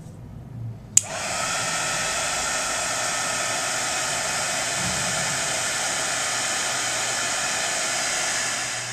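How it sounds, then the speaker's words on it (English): After a sharp click, a heat tool switches on and blows a steady, loud hissing rush of hot air to melt embossing powder on a button, continuing unbroken for several seconds with no talking. "And we're just going to emboss it real quick."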